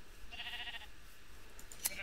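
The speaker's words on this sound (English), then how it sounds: "Oh, there's so many sheep to shear." Sheep bleating in the Minecraft video game, a short wavering bleat at moderate distance over faint background noise, followed by a small click.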